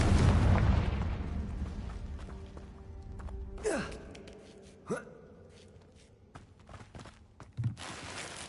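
A Confringo fire spell blasts in the Hogwarts Legacy video game, a loud burst at the start that rumbles and fades, followed by a few scattered softer impacts.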